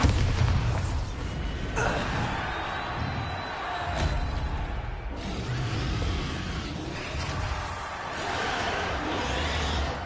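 Bombarda explosion spell cast in the video game Hogwarts Legacy, heavy booming blasts over a constant loud rumble, with sharp impacts near the start and middle.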